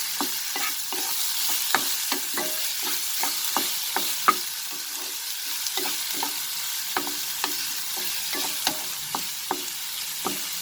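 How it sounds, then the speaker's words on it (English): Onion sautéing with panch phoron in a pan for raw papaya curry: a continuous soft sizzle punctuated by regular sharp spatula taps and scrapes, close and steady, with no voices. "We'll saute this onion till it gets a little bit cooked."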